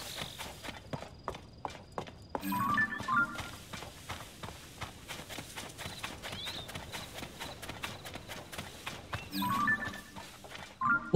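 Hooves from a horse in the video game Zelda: Tears of the Kingdom, a steady series of close, crisp clip-clop steps running for several seconds, with a faint whinny-like burst partway through and no talk.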